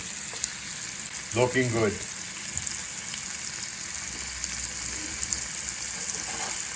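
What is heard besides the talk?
lobster frying in butter in a pan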